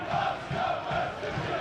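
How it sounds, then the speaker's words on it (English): Crowd applause at a Scarborough Athletic football match, a steady broad wash of clapping and cheering held at even loudness throughout. "The applause going up."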